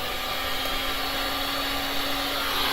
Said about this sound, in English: now I'm going to do some high air with the heat